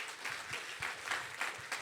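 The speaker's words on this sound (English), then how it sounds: "A big hand of applause to Christine." Steady applause from a crowd, a dense patter of many hands clapping at moderate volume with no voices over it.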